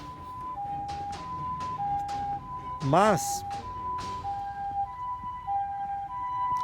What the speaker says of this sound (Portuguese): ambulância vindo aí